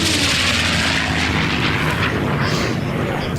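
Unlimited-class racing airplanes with roaring piston engines sweep past at the Reno Air Races, a loud, continuous, rumbling drone with a rising and falling whoosh as they pass close by.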